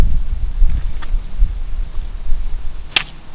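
Wind blows steadily at a beach campfire at Port Dickson, a low rumbling buffet across the microphone with gusty swells and a faint sharp click near the end.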